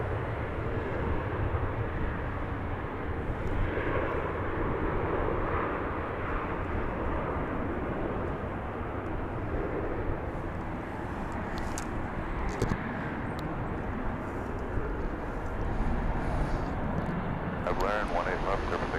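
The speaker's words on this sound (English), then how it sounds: "Now arriving from the capital of Texas, Austin, is this American Airlines jet." An American Airlines jet arriving from Austin at Dallas Fort Worth International Airport makes a steady, loud engine roar that holds throughout. Radio chatter and a commentator's voice run over it.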